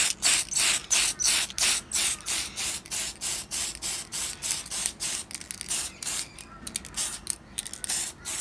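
Light mists of spray paint hiss onto a 1/25 scale AMT Chevy Nova Pro Street model car in a rapid series of short, evenly spaced bursts, close and fairly loud, with no talking.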